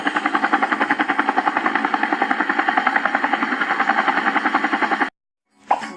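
A helicopter's rotor thumps in a fast, even chop, loud and close for about five seconds before cutting off abruptly, followed by a brief pop.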